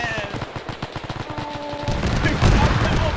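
Gunfire in a WW2 beach battle in Arma 3, starting as a rapid rattle of machine-gun bursts, then swelling into a dense, loud barrage of overlapping shots and rumble, with voices faint underneath.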